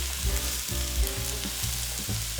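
Green beans and garlic fry in hot oil in a pan, giving off a continuous close sizzle with a steady crackling hiss and no voices.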